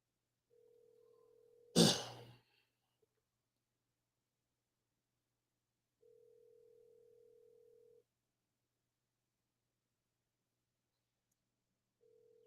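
A phone ringing back on an outgoing call, two long steady ringback tones separated by silence with a third beginning at the end, plus one sharp click or bump near the start.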